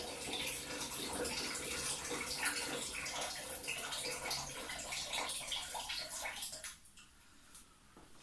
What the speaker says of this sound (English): I'm going to take some of this water and add in here.